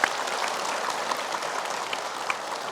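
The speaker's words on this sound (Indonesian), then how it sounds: "Boleh tepuk tangan." A studio audience at an Islamic religious television program claps steadily for a few seconds, a dense and even wash of applause with no voices.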